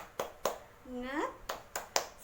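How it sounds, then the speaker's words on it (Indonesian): Elementary classroom in Indonesia doing a rhythmic spirit clapping cheer, sharp distinct claps in a patterned sequence with a chanted voice between them, fairly faint overall. "kita bersemangat dulu dengan tepuk semangat"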